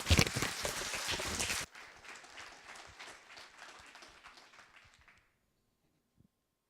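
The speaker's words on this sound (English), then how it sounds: "let's have a round of applause for Ray and Kris" Applause for two speakers at an Ember.js programming meetup in New York: a loud burst of clapping from a small audience, dropping abruptly to thinner scattered claps that trail off into silence with one last faint sound.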